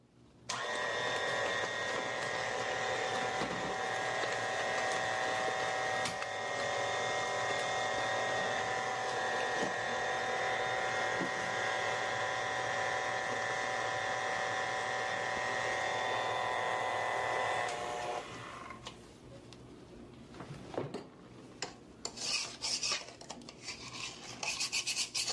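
Electric mixer whirring steadily as it beats three eggs with coarse sugar for a Jamaican pound cake with white rum, a loud continuous drone for about eighteen seconds before it cuts off into quieter clatter and handling noise.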